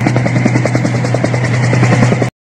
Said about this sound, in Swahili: helikopta hiyo ni kutoka upande wa M23 RDF jeshi la Rwanda AFC